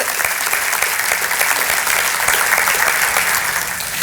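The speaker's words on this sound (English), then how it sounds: "Would you stand up and get a round of applause for all of the work that you're doing for our community?" A breakfast crowd at a State of the County and State of the City address gives sustained applause, many hands clapping in a dense, even roar that stays loud throughout.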